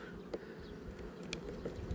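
Honey bees hum faintly in a steady, continuous drone at a hive whose super is filled with capped honeycomb, with occasional louder buzzes as single bees pass close by.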